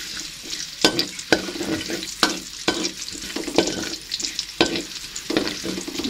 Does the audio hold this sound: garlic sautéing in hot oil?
yes